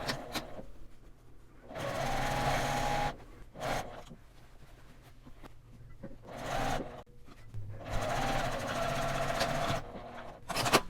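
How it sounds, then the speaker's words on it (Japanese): A sewing machine stitches a seam on a fabric makeup pouch with pockets, running in several bursts of rapid whirring separated by short pauses, close and clear. "反対側から縫い目の下を縫います。"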